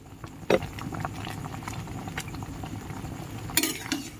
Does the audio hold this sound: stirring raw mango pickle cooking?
yes